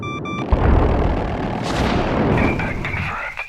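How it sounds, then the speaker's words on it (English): A heavy missile strikes a ship in a space combat video game: a sudden deep boom followed by a rumbling, crackling blast that fades, with a few synthetic alert tones over the top. "heavy missile hit me"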